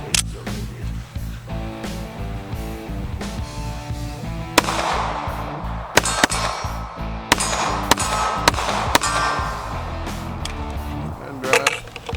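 Dan Wesson ECO .45 ACP pistol fired at a range, several sharp reports spaced a second or two apart over a background hum and a faint voice.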